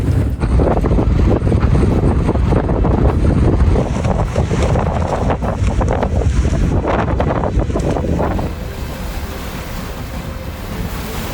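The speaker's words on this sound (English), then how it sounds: "It's super windy today" Strong wind in Mongolia roars and buffets loudly and continuously, gusting hard against the microphone before easing slightly near the end.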